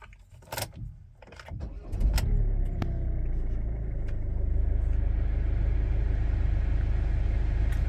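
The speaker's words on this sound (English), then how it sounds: "Got a clip of the engine, the car starting engine running" A 2019 Ford Transit Connect LWB van: a few clicks and rattles from inside, then the engine cranks and catches and settles into a steady, close, continuous idle rumble.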